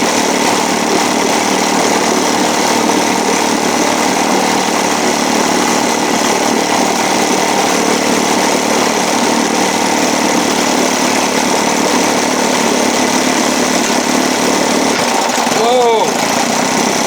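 An Evinrude 7.5 outboard motor runs steadily at a constant idle-like drone, loud and close, with a brief shift in pitch near the end and a voice speaking over the engine.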